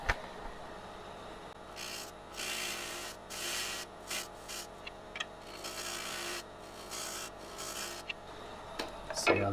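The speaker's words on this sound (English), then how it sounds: "And I'm going to do that in reverse with my 55-degree crown gouge." Wood being carved by hand with a 55-degree crown gouge on a wet-wood piece: a run of rasping, scraping strokes in bursts of a second or so, close and moderately loud, with brief pauses between cuts.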